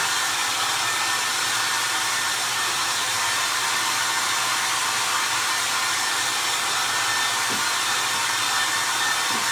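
Steady, loud, unbroken roar of a hair dryer blowing on a DIY vintage shoe stretcher craft, close up and constant throughout with no talking.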